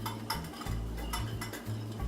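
A utensil whisks salad dressing made with mustard, giving quick, rhythmic clinks and taps against a bowl, close and fairly quiet, with no speech.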